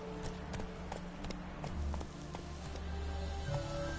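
In The Witcher 3, a horse's hooves beat in a quick, steady clip-clop rhythm under a continuous game ambience and music bed, moderately close.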